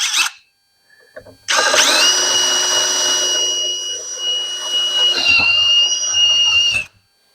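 Power drill opening a hole to 5/8 inch in a rear suspension part on a Factory Five Roadster: a brief spin-up, then a loud, steady, high-pitched whine for about five seconds that stops abruptly.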